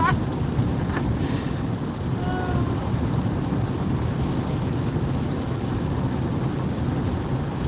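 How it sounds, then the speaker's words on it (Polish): Heavy rain pours steadily outdoors on the road to Phoenix, a dense constant hiss with low thunder rumbling beneath it and no talking. "Ja może taki deszcz, może pięć razy na rok chyba mam doświadczenie takiego deszczu."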